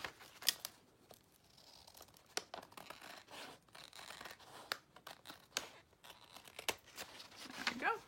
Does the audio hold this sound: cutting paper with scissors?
yes